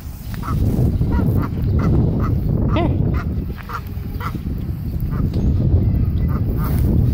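Goose being fed by hand outdoors, honking loudly and close in a run of repeated nasal calls over constant outdoor noise.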